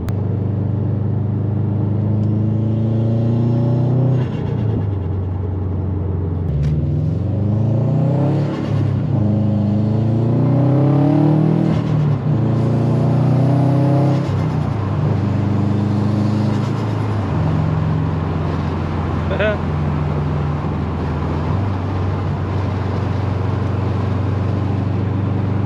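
A 350 hp Subaru WRX STI engine drones from inside the car while driving, rising and falling through repeated gear-change revving sweeps over a constant low road rumble.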